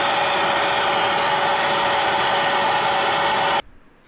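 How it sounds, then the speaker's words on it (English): Air chisel driven by a small pancake compressor working on a Dodge Omni front end, a steady loud hissing, buzzing hammer for about three and a half seconds that then cuts off abruptly. "let me try my air chisel on that using the little compressor"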